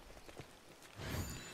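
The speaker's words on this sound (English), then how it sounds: "Nobody likes the rain." Rain falls in the Disney Dreamlight Valley video game as a soft, steady hiss of drops that swells slightly louder partway through, with no one talking.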